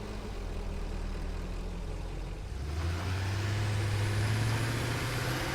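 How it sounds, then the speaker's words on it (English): A tractor engine in the video game Satisfactory rumbles as it drives into a station, a steady idling drone that swells louder and deeper partway through as the vehicle draws near. "And in comes the tractor just as we were talking about it."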